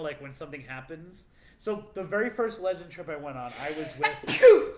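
A single sharp sneeze bursts out near the end, loud and close, following steady conversational talk from a voice.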